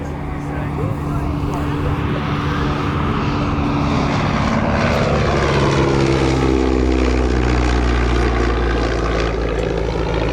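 An SE-5A vintage biplane's geared 200 horsepower engine drones loudly and steadily at an airshow, its pitch slowly shifting as the plane passes close by.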